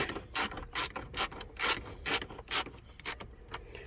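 A hand screwdriver ratchets and rubs as screws go into a white-face gauge cover on a 1998 K1500 truck, giving about a dozen short, crisp clicking bursts in an uneven rhythm, close and fairly quiet.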